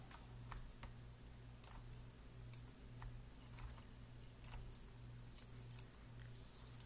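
A computer mouse gives a handful of quiet, sharp clicks spread at irregular intervals over a faint steady electrical hum, with a couple of clicks coming in quick pairs.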